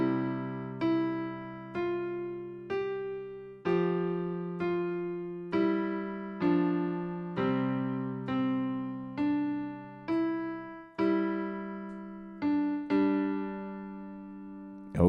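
A Nord piano plays the first four bars of a piece, a steady sequence of struck chords and notes, each one decaying before the next, close and clear with no talking.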